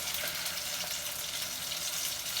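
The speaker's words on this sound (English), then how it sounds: "they will pop and sizzle" Padrón peppers fry in hot oil, giving a steady, close, hissing sizzle with faint crackles and pops throughout.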